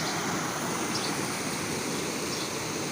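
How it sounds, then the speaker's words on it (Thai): Bo Rae cave waterfall in Ngim, Pong, Phayao, Thailand, with plenty of clear water pouring down, a dense, steady rush of falling and flowing water heard close up with no voices. "น้ำเยอะนะครับ น้ำใสไหลเย็น"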